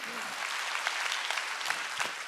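Congregation clapping at a Korean church summer revival service, a dense steady patter of many hands that fills the room, with a faint voice briefly underneath.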